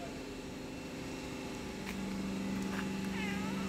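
A tabby cat lying on the ground outside an apartment block entrance in the heat gives a soft, short meow, heard over steady outdoor hum and distant traffic.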